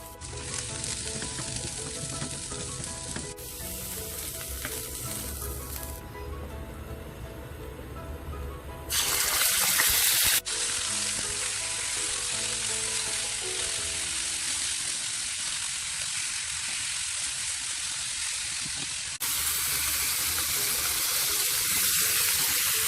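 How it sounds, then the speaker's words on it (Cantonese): Onions stir-fried in a pan for a Japanese-style pork and onion dish hiss in a loud, continuous sizzle, with brief breaks where running water and stirring sounds come through before the frying resumes. "先爆一爆啲洋葱。"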